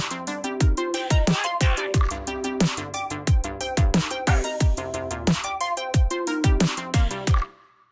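A bright synth arpeggio from the modular synth in the Caustic app plucks out rapid repeating notes with a punchy low thump under it, looping steadily for several seconds before cutting off abruptly.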